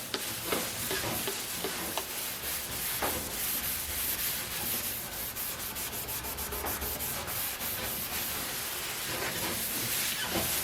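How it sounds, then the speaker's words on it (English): Steady, vigorous scrubbing of a Mercedes W108 metal trunk lid during a second wash, a dense continuous abrasive rubbing close up, with no talking. "make sure we get these a good clean scrub with this stuff"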